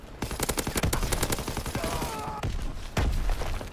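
Rapid gunfire bursts in the video game Apex aimed at infantry, dense rattling machine-gun volleys with heavy thuds, loud and continuous across the whole stretch.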